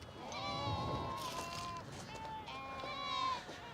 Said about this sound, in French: C'est un énorme troupeau de moutons